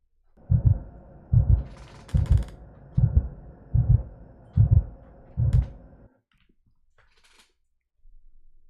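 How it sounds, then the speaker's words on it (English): Six deep, thumping heartbeats pulse in a slow, even rhythm with a low hum beneath, then stop, leaving near silence. "You hear their heart beating."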